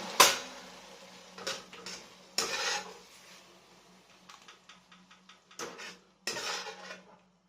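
Dishes and cutlery clatter while Szechuan pork curry is plated up in a home kitchen: sharp scattered clinks and scrapes of plates and utensils, moderately close, separated by quiet pauses, with no voices.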